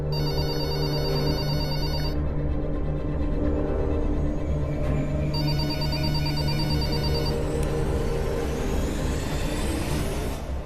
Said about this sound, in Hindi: देखिए तो आजकल लैंडलाइन पे कौन फोन करता है?